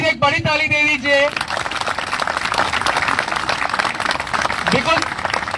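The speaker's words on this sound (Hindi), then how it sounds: "तो आपके लिए प्लीज एक बड़ी ताली दे दीजिए।" Crowd of several hundred people at a protest clapping loudly and steadily after a brief burst of speech, the dense applause continuing throughout.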